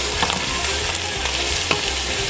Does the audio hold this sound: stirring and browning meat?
yes